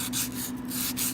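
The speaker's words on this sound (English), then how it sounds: "So we're sanding around on this leading edge right here." Hand sanding along the leading edge of a Mahle Maxiforce ceramic piston, a close, steady back-and-forth rasping rub in short repeated strokes.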